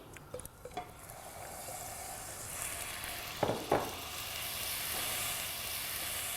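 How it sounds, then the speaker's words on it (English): Onion frying in grapeseed oil in a pan, giving a soft, continuous hiss close by, broken by a couple of sharp clatters of a utensil. "Let's fry the onion."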